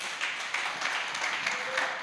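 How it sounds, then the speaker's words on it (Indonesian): A church congregation claps together during a worship service, the applause fairly faint and even, spread across the short moment. "Kasih tepuk tangan bagi Tuhan."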